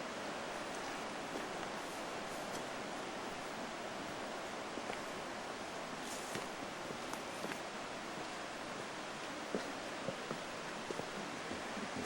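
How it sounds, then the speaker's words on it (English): Steady broadband rush of a distant waterfall drifting through a wet Maui jungle after recent rain, a constant even wash with faint rustling and occasional small ticks on top, no voices. "You can hear the waterfall in the distance."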